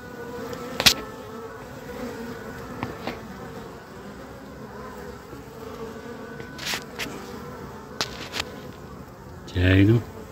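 Honeybees buzz around their hive while bringing in nectar, a continuous close drone of many insects with occasional louder passes near the microphone and a few faint knocks.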